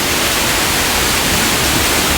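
A waterfall at Animal Kingdom roars as a loud, dense, unbroken rush of falling water, heard from close behind the cascade.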